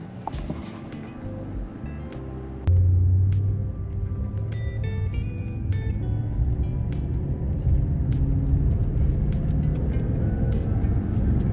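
A Toyota Tundra pickup pulls away and cruises. A low, steady engine and road rumble is heard from inside the cab, with scattered small rattles and clicks. No one speaks.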